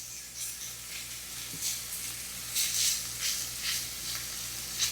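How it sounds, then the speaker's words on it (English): Onion and garlic sautéing in hot oil in a pan: a soft, steady sizzle with occasional brighter crackling bursts, close and fairly quiet, with no talking. "I'm going to go in with both our onion and garlic together. Just want to let this saute for about a minute."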